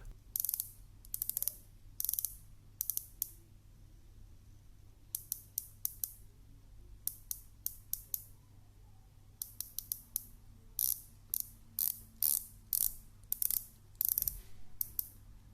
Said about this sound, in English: it has 90 crisp clicks with almost no backplay and is made of aluminum